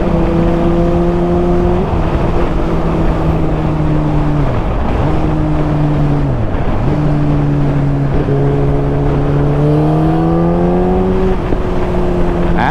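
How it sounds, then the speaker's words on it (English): Inline-four motorcycle exhaust while riding: a loud, smooth, multi-toned engine note climbing and dropping through several gear shifts, with a steady rise near the end and no talking. "that exhaust note of an inline 4 Symphony"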